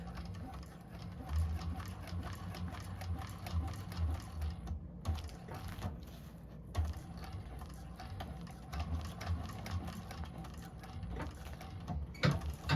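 A sewing machine stitches handbag pieces with rapid mechanical chattering in several bursts separated by short pauses, close and fairly quiet with no talk.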